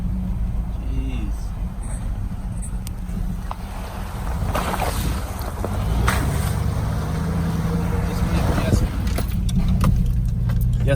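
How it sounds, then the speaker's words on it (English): Off-road truck jolting over bumps on a rough trail, with creaks and rattles from the body and suspension under a steady engine and road rumble, while a person exclaims over it. "Yes, my truck squeaks."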